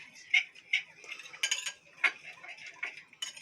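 Yeast being stirred into a bowl of warm water with a spoon, a run of light clinks and scrapes against the bowl, close and fairly quiet, with no talk.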